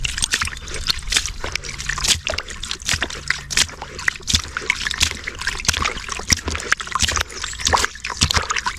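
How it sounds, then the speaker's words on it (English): Water running into a horse trough as the float valve opens to refill it, a close, steady splashing and trickling that continues throughout without pause. "As it goes down, the water turns on because of the float and keeps it filled up so that the horses can drink water"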